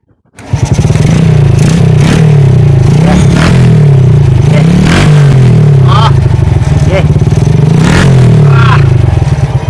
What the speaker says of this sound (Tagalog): So ngayon ay kakabit na to ulit sa motor para matesting at marinig natin ang kaniyang tunog.